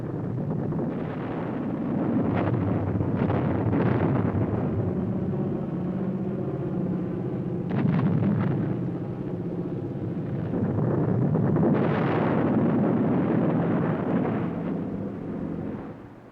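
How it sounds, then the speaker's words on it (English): Bombs strike captured German warships, including a submarine, a destroyer and the cruiser Frankfurt, anchored and defenseless, heard as a continuous heavy rumble with several deep booming blasts swelling through it, distant and muffled like archival film sound. "Army, Navy, and Marine Corps pilots bombed a submarine, a destroyer, and the cruiser Frankfurt"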